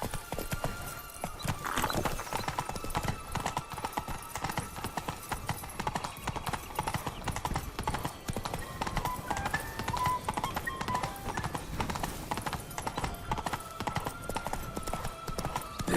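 Horse hooves clip-clopping steadily at a brisk pace through most of the stretch in The Witcher 3: Blood and Wine, with a brief whinny and faint game ambience underneath.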